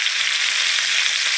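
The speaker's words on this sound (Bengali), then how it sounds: "আমি ফুলকপিগুলো তেলের মধ্যে দিয়ে দেবো, দিয়ে ভালো করে আস্তে আস্তে নেড়ে নেব" Cauliflower florets fry in hot oil in a kadai while being stirred slowly, giving a loud, steady, hissing sizzle with no voices over it.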